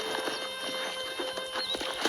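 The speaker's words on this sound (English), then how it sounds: "I picked out a fine horse for you." Horse hooves clip-clop at a walking pace on a ranch in the video game Red Dead Redemption, giving a steady run of close, crisp strikes with faint background ambience and no speech.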